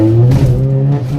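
A 10th-generation Honda Accord engine drones loudly and steadily as the car accelerates hard, a brief close-up burst of engine tone heard without speech.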